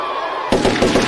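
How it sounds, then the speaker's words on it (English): After a half-second lull, an audience bursts into clapping that continues as a bright, busy wash of hand claps. "Can we get another clap?"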